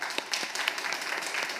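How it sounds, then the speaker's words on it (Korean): A church congregation claps briefly to welcome a visiting family, steady applause from a roomful of people with no voices over it. "우리 박수로 잠깐 환영하겠습니다."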